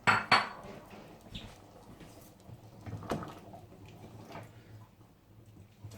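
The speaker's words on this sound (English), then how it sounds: "Again, we're stirring to make sure that it is completely mixed in there" A utensil scrapes and clinks against a pan while starchy food is stirred in, giving a few sharp knocks at the start and scattered softer scrapes afterward, quiet and close.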